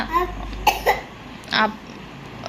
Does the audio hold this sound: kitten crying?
no